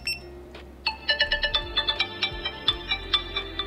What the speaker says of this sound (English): I can click alarm. And then this thing will start beeping.